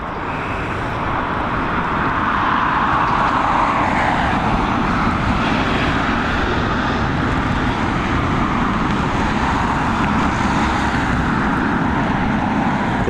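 An Aer Lingus passenger airplane lands at Dublin Airport, and its engines give a loud, steady roar that goes on without a break throughout. No voices are heard over the noise.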